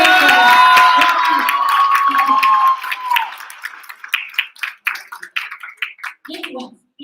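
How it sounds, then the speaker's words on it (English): A jury and audience at an English public speaking competition applaud the announced winner. Scattered, fairly sparse claps and light crowd noise follow a brief ringing tone, moderately close and uneven in rhythm. "a big round of applause"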